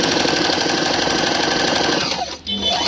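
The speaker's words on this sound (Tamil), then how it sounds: "இதில் இப்போ முதல்ல பொடி தையல் வைக்க போகிறேன்." A Singer 1304 sewing machine runs steadily, sewing small stitches in a continuous mechanical whir that stops briefly near the end.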